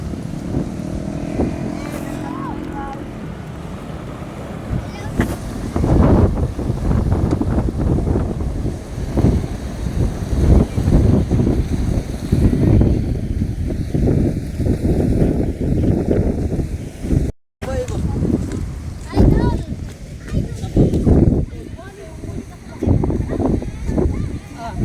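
Strong wind rumbles and buffets across the microphone along a seaside coastal road in Davao City, continuous and loud with passing gusts, mixed with faint traffic and people talking throughout.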